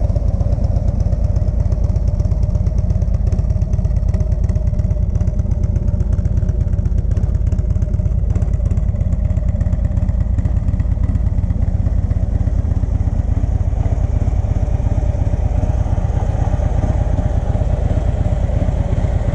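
A small Freewheeler trike is ridden along, its engine giving a loud, continuous low throb that holds steady throughout with wind noise on top and no talking.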